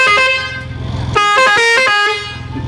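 A three-trumpet horn module blares in loud, sustained tones that shift pitch across a few short bursts, with a low engine rumble underneath.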